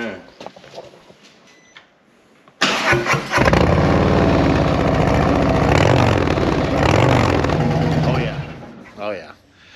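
A motorcycle fitted with Tad Performance BAM sticks exhaust with zombie baffles cranks and fires up into a loud, rough, crackling idle with blips of the throttle, then drops away, with voices talking before and after.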